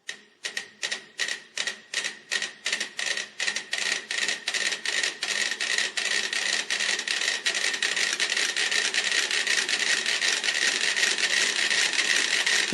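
Several metronomes tick on a shared foam platform, starting as a few distinct clicks that quickly multiply into a dense, fast, clattering stream of overlapping ticks, close and steady throughout.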